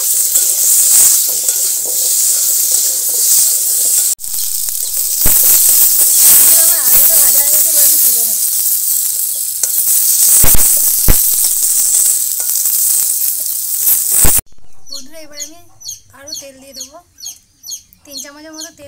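Food frying in hot oil with salt and turmeric gives a loud, continuous sizzle and hiss with a few stirring knocks for about fourteen seconds. It then stops, and nearby chickens cluck repeatedly.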